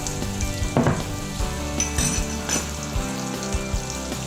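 Butter melting into a little olive oil in a hot frying pan while steak gorgonzola alfredo is being cooked gives a steady, fairly loud sizzle, with a few utensil scrapes and clinks as the pan is stirred.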